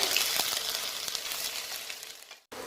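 Chilli chicken paste frying in a pan gives a loud, steady crackling sizzle with faint stirring scrapes, cutting out briefly near the end before resuming.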